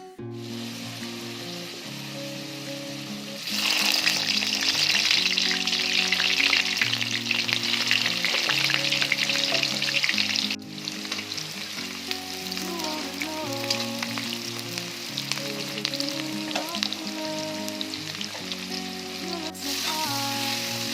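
Duck meat fries in hot oil with a constant close sizzle and crackle that swells louder partway through, while soft melodic music plays steadily underneath.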